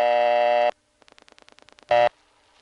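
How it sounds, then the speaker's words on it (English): A loud steady telephone tone cuts off, followed by a quick series of short rapid beeps, then another brief burst of the steady tone. "the special dial tone was actually a beeping signal like this"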